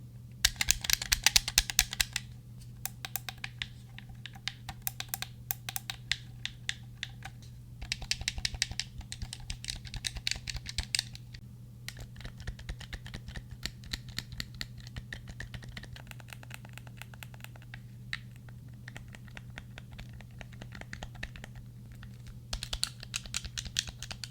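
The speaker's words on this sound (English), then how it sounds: "From the tacky click of the triggers and the 2 joysticks to the concave, mushy sound of the directional pad" Light plastic clicks and taps from a cheap $13 Switch controller's triggers, two joysticks and mushy directional pad come in irregular bursts, close up and fairly quiet, over a steady low electrical hum.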